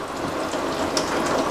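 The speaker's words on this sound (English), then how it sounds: "Sounds like it's raining." Rain patters steadily on a van roof, a dense, even hiss of drops falling on a surface, with no voices.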